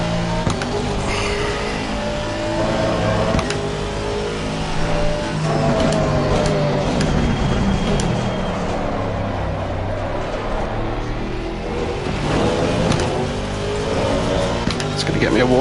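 V8 Aston Martin race car in ACC at COTA, its engine revving and shifting up and down loudly and continuously through corners, with talk over the top at times.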